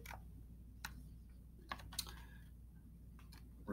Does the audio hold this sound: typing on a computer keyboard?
yes